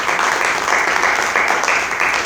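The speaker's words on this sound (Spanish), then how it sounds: "Un aplauso al Señor." A church congregation applauds together, a dense, loud and steady wash of clapping with no break.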